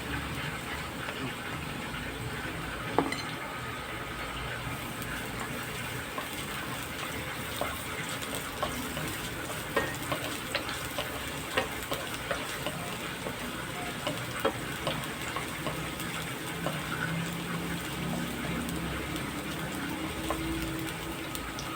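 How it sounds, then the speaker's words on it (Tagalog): Garlic hits hot oil in a pan for fish kinamatisan, a steady close sizzle and hiss that runs continuously with faint scattered pops and small clanks, and no talking over it. "Gisa natin ang bawang."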